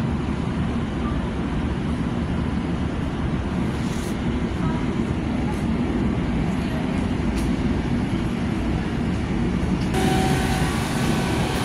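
A Long Island Rail Road train bound for Penn Station rumbles at Jamaica station in New York, a steady loud broadband roar of wheels and motors that holds throughout, with faint clanks and a brief tonal whine near the end.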